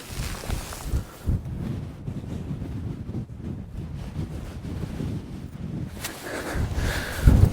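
Strong high wind buffeting a mountain ridge path near High Stile above Buttermere, loud and gusty, rushing and roaring in waves with bursts that swell and fade.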